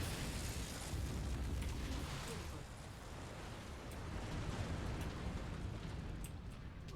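A missile blast in the mech combat game Mechwarrior 5 gives a sustained, loud, rumbling roar of explosive noise that holds steady for several seconds without a sharp single hit.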